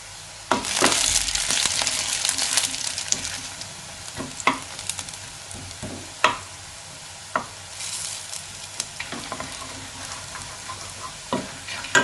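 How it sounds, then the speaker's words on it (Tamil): Garlic cloves, dried chillies and a piece of tamarind roast in a pan with a steady sizzle, broken by sharp scrapes and clicks of a stirring spoon at irregular intervals, close and fairly loud, with no voices. "பூண்டு நல்லா வெந்துட்டு இந்த மாதிரி பொன்முருவலாக வறுத்தாதான்"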